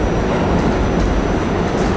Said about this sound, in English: R46, very ancient train.